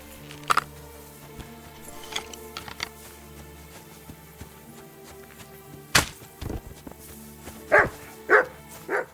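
A dog barks in Kingdom Come: Deliverance II, a medieval video game. Several sharp barks come at irregular intervals over a busy, clattering game soundscape, and the last few land close together.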